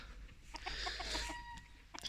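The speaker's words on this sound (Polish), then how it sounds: "Tu mi młody koguta kochina, tutaj kurka, feniks." Cochin chickens cluck softly in short, scattered notes over a low background rumble, fairly faint and a little distant.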